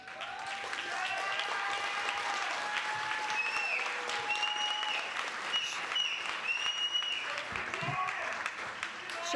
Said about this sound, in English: Could you hold your applause for a minute, please?